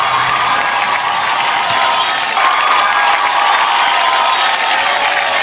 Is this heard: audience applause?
yes